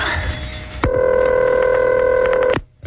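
A touch-tone telephone dialing: one sustained push-button beep of nearly two seconds over faint room hiss, clear and close, then cut off abruptly.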